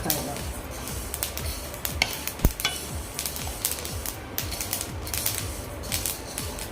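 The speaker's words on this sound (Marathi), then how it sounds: "आता आपले तीळ भाजत आले आहे मस्त असे खरपूस भाजून घ्यायचे आहे" Sesame seeds dry-roasting in a pan while being stirred, a dense crackling and rattling with rapid irregular pops and scraping strokes, close and continuous.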